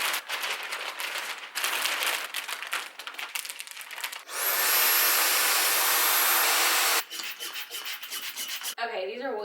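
A small handheld pump draws air out of a vacuum storage bag of bedding, producing a bright, steady hiss for several seconds, framed by bursts of rustling and rubbing fabric before and after.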